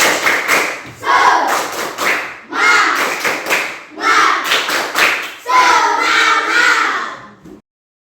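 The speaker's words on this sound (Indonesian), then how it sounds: "mari kita tepuk semangat dulu" A classroom of students performs a 'tepuk semangat' clapping chant, bursts of sharp hand claps falling into repeated rhythmic groups, joined by loud chanting voices that swell into a sustained shout near the end.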